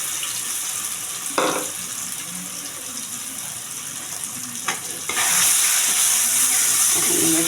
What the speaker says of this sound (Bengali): নাড়তে নাড়তে একদম মাখা মাখা হবে।